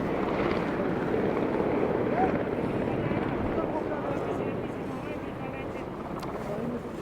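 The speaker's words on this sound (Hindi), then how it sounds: "ये देखें भाई हेलीकॉप्टर नीचे से जाता हुआ।" Steady broadband roar of a helicopter flying past below on a mountain trek route, fairly loud and continuous, fading slightly toward the end with wind noise mixed in.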